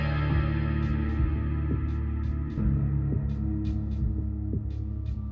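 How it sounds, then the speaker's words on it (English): Low, bit-crushed ambient drone from Half-Life 1, a steady throbbing hum with faint rhythmic pulses and scattered soft clicks layered on top, continuous and moderately loud with no voices. "for Half-Life 1, the bit-crushed ambient sounds with enemies hanging around just really works well with creating the atmosphere"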